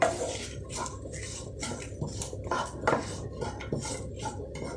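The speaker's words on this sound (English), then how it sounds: "I will occasionally stir this because this should not get burnt" A spoon scrapes and clinks against a metal pot in a steady, repeated rhythm while stirring drying Kerala erissery of pumpkin and coconut, close by with no talking.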